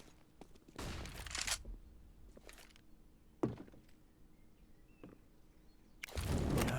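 Gunfire in a competitive online shooter match: a few loud, isolated shots and bursts spaced across several seconds, separated by quieter stretches with faint clicks and movement.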